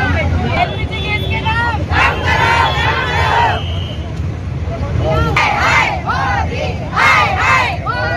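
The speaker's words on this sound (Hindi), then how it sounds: "पीएम के खिलाफ नारेबाजी" Women's Congress protesters in Chittorgarh, Rajasthan, chanting slogans against the PM over rising domestic gas prices, loud rhythmic call-and-response shouts from a crowd with a steady background hubbub between bursts.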